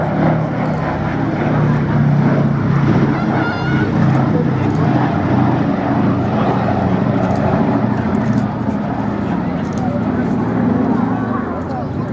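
B-17 Flying Fortress 'Sally B' flying past, a steady, loud piston-engine drone that holds for several seconds under a commentator's talk.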